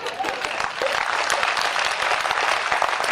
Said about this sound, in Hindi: आप जोरदार तालियां बजाएंगे